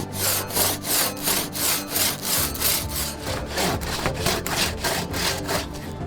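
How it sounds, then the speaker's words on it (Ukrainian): A Druzhba chainsaw bucks a log to length outdoors, its engine droning loud and close with a steady rhythmic pulse of bites into the wood, about a dozen surges across the cut, no voices. "Підрізаємо колоду до необхідної довжини"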